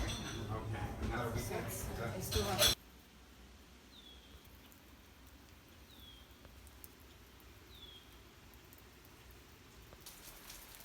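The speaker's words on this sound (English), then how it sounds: "And it's still raining a little bit." Light rain falls on the Appalachian Trail at a stop near Shaw's in the evening, heavier at first, then a soft, steady patter with faint high chirps and occasional drips.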